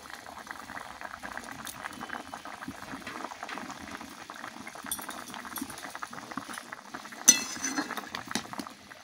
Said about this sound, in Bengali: মাছটা দিয়ে আমি আরেকটু ফুটিয়ে নিই।